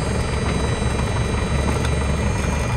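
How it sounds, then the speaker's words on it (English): A rescue helicopter flies near an airfield, giving a steady, dense engine and rotor drone that holds at an even level with no talking. "That's the rescue helicopter."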